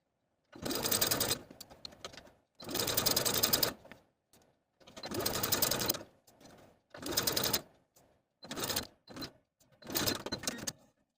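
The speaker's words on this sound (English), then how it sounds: "take it to the sewing machine and baste with about a 1/4 inch seam allowance" A sewing machine whirs in six quick bursts of rapid stitching, basting a dress side seam, separated by short pauses, close and steady, with no talking.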